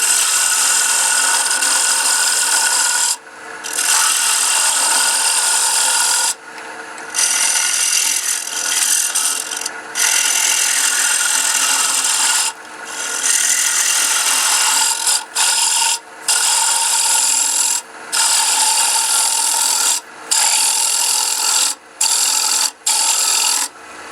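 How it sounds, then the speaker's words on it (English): Hollowing tool hogging out wood on a lathe, a loud harsh scraping hiss in long continuous bursts broken by short pauses, with the rhythm growing choppier toward the end. "I'm hogging out some wood"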